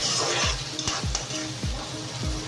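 A kilogram of chicken pieces sizzles in a hot pan, a close, steady frying hiss with several rhythmic stirring scrapes about every half second.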